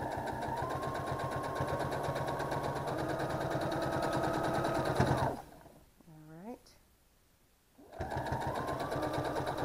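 A sewing machine stitches fabric in a fast, even run of rapid needle strokes, stops for a quiet pause where a brief voice is heard, then starts stitching again.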